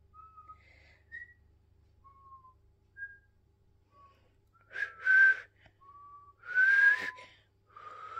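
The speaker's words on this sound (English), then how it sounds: "I can't whistle very well, can I?" A person whistles a halting tune of short, separate notes with pauses between, growing louder and longer toward the end, with no talking.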